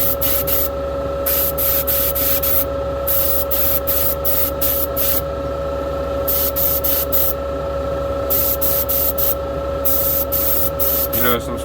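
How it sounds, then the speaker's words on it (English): A spray can applies primer paint to parts for a race car in a workshop, heard as close, loud, hissing bursts of varying length separated by short pauses, repeated throughout over a steady background hum. "You notice I'm spraying these that are a little heavier"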